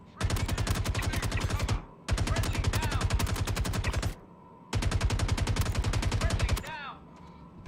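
Rapid automatic gunfire in a VR video game, three long rattling bursts of evenly spaced shots separated by short pauses, loud and close, with faint tinkling of ejected casings after the last burst.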